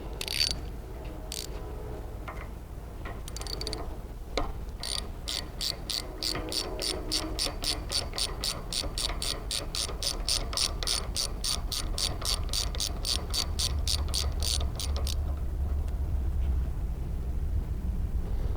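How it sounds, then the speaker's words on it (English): A 3/8 ratchet, paired with a seal retainer wrench, backs out the seal retainer on a Microfluidics LM20 or M-110 series processor during maintenance, giving a long run of rapid, evenly spaced close clicks with no talking. "we're going to grab our 3/8 ratchet as well as our seal retainer wrench"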